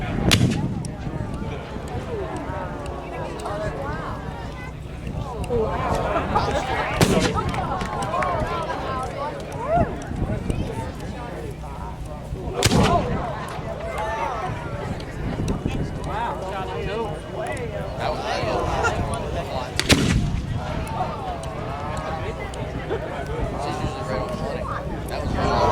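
A 24-pounder mortar fired at a Gettysburg battle reenactment demonstration: a few sharp booming shots spaced several seconds apart, each standing out above constant outdoor crowd chatter and voices.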